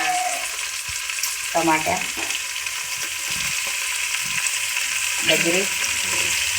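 Tomato, carrot and beetroot sizzle steadily in hot oil for chitranna, a continuous frying hiss with stirring scrapes, while a couple of short spoken remarks rise over it.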